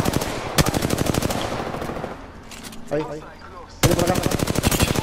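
Rapid automatic gunfire in an Apex Legends match, loud bursts of dense repeating shots at the start and again at the end with a quieter gap between, while players talk over the action.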